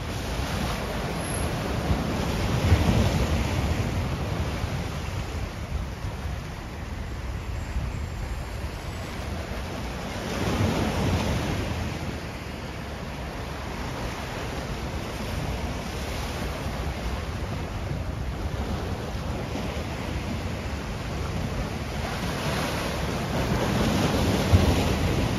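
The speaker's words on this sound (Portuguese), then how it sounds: "Hoje aqui em Santos o mar tá bravo" Rough surf at Santos beach in Brazil crashes and rolls steadily, with a broad, continuous roar of breaking waves and a few louder surges, mixed with wind buffeting the microphone and no voices.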